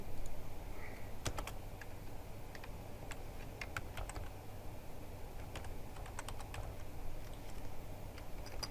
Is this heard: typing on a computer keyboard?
yes